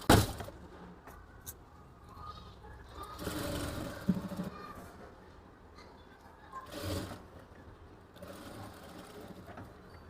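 A sewing machine stitches the folded edge of a blouse in short bursts of rapid needle chatter, with quieter pauses between runs while the fabric is adjusted, close and clear.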